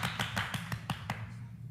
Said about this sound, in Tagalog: bilisan nyo pumalakpak